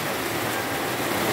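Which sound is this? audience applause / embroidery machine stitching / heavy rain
heavy rain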